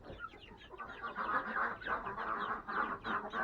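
Black Copper and Blue Copper Marans chickens on a homestead cluck in a nervous, overlapping chorus of repeated clucks and squawks, close by and fairly loud, with no talk.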